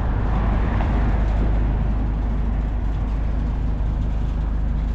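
A tram in Blackpool town centre passes as a steady, loud low rumble of rail and road traffic that fills the whole stretch without pause. No voices are heard.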